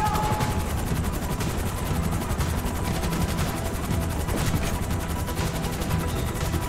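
Sustained machine-gun fire rattles at a helicopter in the Grand Theft Auto V video game, a dense continuous burst of shots over the chopper's rotor noise that stays loud throughout.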